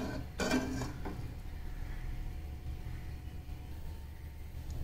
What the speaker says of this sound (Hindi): अब हम कुकर को खोल लेते हैं।